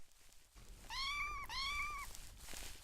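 Two drawn-out cat meows from Minetest in quick succession, clear and close, with a soft hiss of background noise and no talking.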